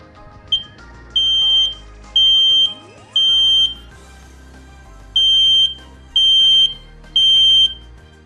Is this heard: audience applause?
no